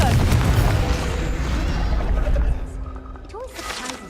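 A Confringo explosive spell in Hogwarts Legacy lands with a heavy, booming blast that rumbles for a couple of seconds and then decays, with a voice briefly heard as it fades.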